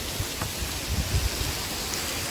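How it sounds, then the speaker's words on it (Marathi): Steady broadband hiss of rain falling in the hills near Murbad, with faint scattered low thumps and no voices. "इथे पाऊस पडतोय"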